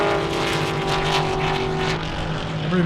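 Camaro and Boss 302 Mustang race cars on an airstrip, heard as a loud, close engine roar with rising and falling revs and a strong, sustained drone.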